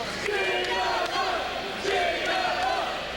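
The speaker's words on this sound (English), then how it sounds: "And the fans here cheering on the Gigolo." Wrestling crowd at an APW pro wrestling show cheering and shouting for a wrestler in the ring, a steady loud wash of voices with swells of yells throughout.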